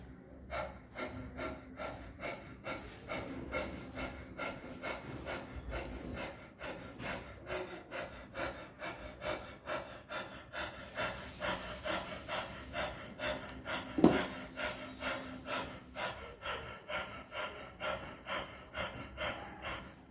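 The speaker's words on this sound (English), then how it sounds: "Fast breathing through abdomen level," Fast abdominal breathing done with the tongue out during a breathing exercise class: a steady, rapid train of short raspy puffs, about two per second, sustained for the whole stretch at moderate, close level with no talking.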